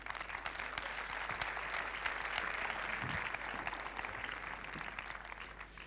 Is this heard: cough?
no